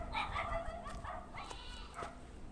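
Barking and yipping from a dog somewhere off at a distance rise over a steady outdoor background hiss, several short calls spread across the moment at moderate volume, with no talk.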